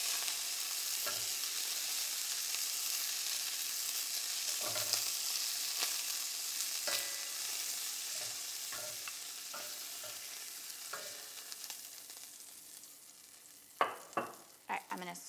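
Carrots and onions sautéing in bacon grease, a steady hiss of frying punctuated by repeated spoon scrapes, growing more frequent and louder toward the end.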